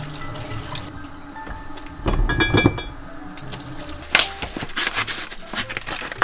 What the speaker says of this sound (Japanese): 中に水の入らないようなものは全てこのようにして洗っていきます。